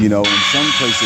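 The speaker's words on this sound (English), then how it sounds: "That's my alarm" An alarm rings in a steady, loud electronic tone throughout, under a person speaking nearby.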